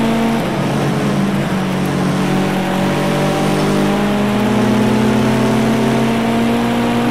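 Porsche 959 engine in Project CARS 2 drones loud and continuous with steady harmonics, pitch sliding gradually as revs change; the blow-off valve hiss is not clearly distinct.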